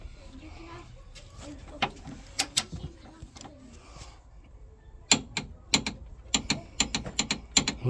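Ratchet wrench tightening a subframe bolt on a Mk2F VW Polo in a workshop: bursts of rapid metallic clicks, a sparse cluster early on, then a denser run of sharp ratcheting strokes near the microphone, with no talk.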